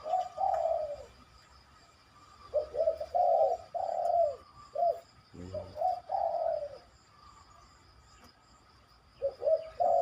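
Zebra dove cooing in soft, rounded phrases, repeated several times with pauses in between, close and clear over quiet background.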